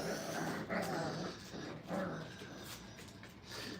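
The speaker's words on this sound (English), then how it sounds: "they're all so ferocious with the growling they've learned and the barking" Five-week-old puppies at a training kennel growl and grumble in low, rough bursts, close and moderately loud, with faint yips and whimpers mixed in.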